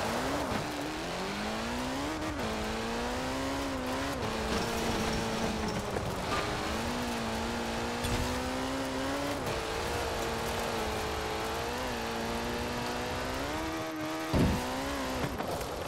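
A Ford RS200 rally car in the racing game Forza Horizon 4 drives continuously, its engine droning and shifting pitch as it revs, with brief tire noise; loud and steady throughout, no voices.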